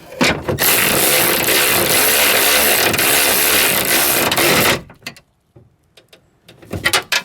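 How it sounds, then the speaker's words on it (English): A power tool whirs loudly and steadily for nearly five seconds while tightening a nut on a Ford F350 driver-side window track, then stops, leaving faint clicks and a brief final burst. "So we're gonna tighten this nut."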